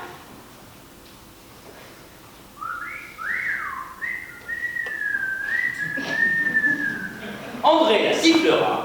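A whistle sounds with a rising then long sliding tone, followed by a shriller burst at the end amid some background noise.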